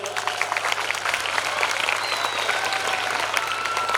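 Children at a school annual gathering clap steadily for their parents, a continuous crowd of hands filling the room at moderate loudness for the whole stretch, with faint voices mixed in.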